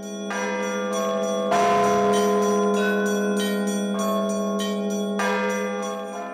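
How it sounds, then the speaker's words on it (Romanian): Old Rite Orthodox church bells of the Lipovan Russians ring in a rhythmic peal, several bells of different pitch struck in steady alternation, loud and resonant with long overlapping hums. "tradițional la rușii lipoveni este bătaia ritmică a clopotelor"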